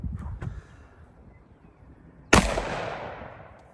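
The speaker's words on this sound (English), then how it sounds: "I don't know which piece to have them shoot through, but we're gonna try it real quick" A gunshot fired into a tree trunk cracks once, a sharp loud report with a decaying tail outdoors, preceded by faint handling thumps.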